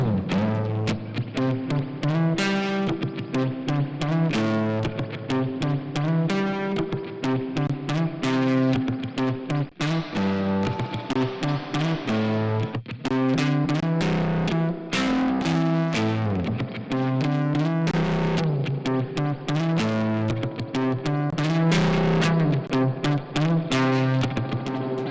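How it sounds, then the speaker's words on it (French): Electric guitar chords ringing out with heavy, splashy spring reverb from a Pulsar Primavera unit, notes washing together in a sustained echoing tail throughout. "Super réverbération."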